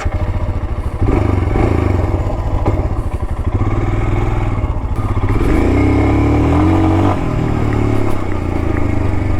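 A Royal Enfield Scram 411 motorcycle is ridden, its single-cylinder engine thumping loudly and close as it accelerates and revs. Pitch rises and shifts through the ride, with clatter and wind.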